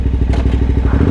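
A KTM 990 adventure motorcycle engine pulses with a rapid, throbbing low-pitched beat, loud and close, over about a second.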